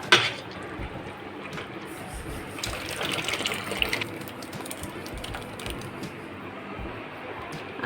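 Crushed raw mango pulp pours into hot sugar syrup with a steady wet gushing and sloshing that stays fairly constant and moderately quiet.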